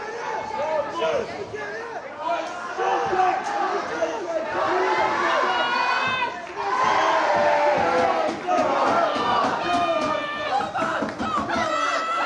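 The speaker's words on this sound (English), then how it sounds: "Crowd really cheering Salford on now." Crowd at a varsity rugby union match between Chester and Salford men's first teams cheers and shouts steadily through the second half, a dense roar of many voices with scattered laughter and chatter.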